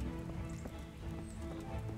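A horse in the medieval role-playing game Kingdom Come: Deliverance, its hooves clopping softly and faintly under a low, steady background hum.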